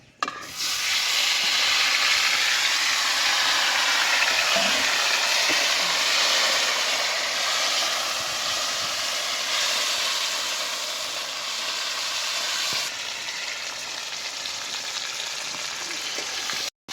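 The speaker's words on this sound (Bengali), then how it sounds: "এখন আমি কেটে রাখা টমেটোগুলো ভেজে নেব।" Chopped tomatoes frying in hot oil with whole spices and sugar for vegetarian khichuri, a loud continuous sizzle heard up close for the whole stretch with faint stirring underneath and no talking.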